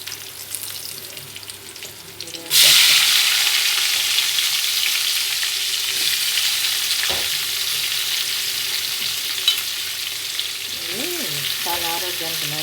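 Broad beans hitting hot oil with onion and curry leaves, a sudden loud sizzle that settles into a steady bright frying hiss with occasional stirring clinks.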